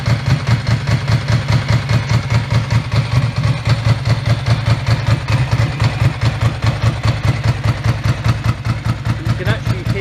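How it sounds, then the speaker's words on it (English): A Ducati 851 S3 Monoposto motorcycle idles steadily up close, its engine throbbing in an even, loping rhythm of distinct piston pulses that holds throughout. "You can actually hear the piston pulses, the individual piston pulses."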